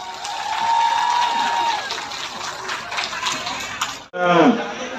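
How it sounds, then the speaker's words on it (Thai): An audience applauds steadily at a Thai political gathering, a dense wash of clapping mixed with crowd noise and someone talking over it, before it cuts off and a voice speaks alone near the end. "ขอเสียงปรบมือก่อนนะครับ"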